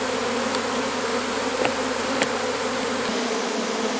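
A small honeybee swarm buzzes in a dense, continuous hum, close and steady, with a few faint clicks.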